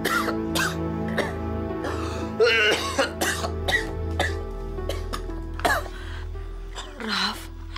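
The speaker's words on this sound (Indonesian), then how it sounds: "kok batuknya nggak sembuh-sembuh sih?" A person coughs over and over, harsh and close, in uneven bursts with throat clearing, gasping breaths and a hoarse strained sound near the end, while quiet music plays underneath.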